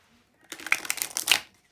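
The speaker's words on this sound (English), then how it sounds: "So I'm just going to give these cards one last quick shuffle." Tarot cards given a quick shuffle, a short burst of dense papery riffling lasting about a second, close and moderately loud with no talking.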